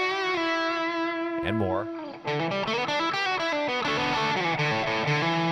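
High-gain distorted electric guitar with the volume knob rolled back, chords ringing steadily and thinning toward a cleaner tone, loud and continuous with a brief spoken word over it.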